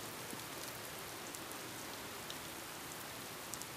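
Heavy rain pours down outdoors in a steady, dense, even hiss of countless drops that holds constant for the full length, quiet and without voices.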